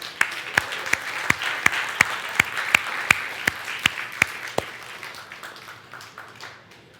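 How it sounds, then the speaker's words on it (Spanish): A church congregation at a Spanish-language worship service claps in rhythmic unison, sharp evenly spaced hand claps over a bed of scattered applause that gradually fades and thins toward the end. "denle un aplauso al Señor"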